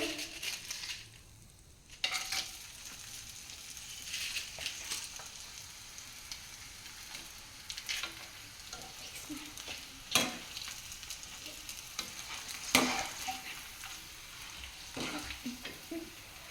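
Food fries in a pan with a continuous crackling sizzle, broken by a brief lull early on and several sharp clinks and scrapes of stirring.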